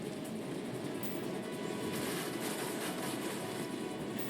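Trains rumbling past on both sides of a platform between two rail lines in Final Fantasy VII Remake, a steady broadband roar with faint clatter, continuous and fairly loud with no voices.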